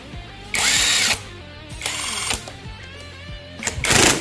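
A 17 mm nut on an Aerox V2 stator is run down with a power tool in three loud, buzzing bursts separated by short pauses, with faint workshop clicks between them.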